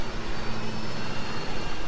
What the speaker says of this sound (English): I got a attack helicopter.